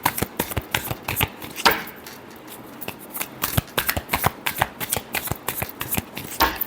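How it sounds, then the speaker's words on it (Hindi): Tarot cards being shuffled by hand in a quiet room, a dense run of crisp riffling flicks and soft slaps with short pauses between bursts, close and clear with no talking. "Last shuffle."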